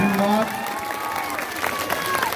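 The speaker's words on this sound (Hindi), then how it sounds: "विदाई करना है ताली के साथ, ताली बजाते हैं।" Crowd applause at an election rally in Bihar, a steady wash of clapping that continues under an amplified announcer's voice from start to finish.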